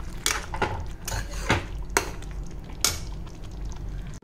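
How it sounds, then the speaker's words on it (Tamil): A spoon stirs chicken gravy with fresh cream and kasuri methi in a pan, Mughlai restaurant style, giving a series of close, irregular scraping clinks and soft wet squelches with no talking. "இது எல்லாத்தையும் சேர்த்து நம்ம மிக்ஸ் பண்ணி ஒரு 2 மினிட்ஸ் குக் பண்ணலாம்"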